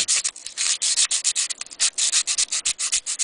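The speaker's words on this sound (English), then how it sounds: "some really fine sandpaper, and we're gonna run this through here" Very fine sandpaper is run back and forth across the contact points of an NES cartridge connector, giving quick, close, rhythmic scratchy rasps in rapid bursts.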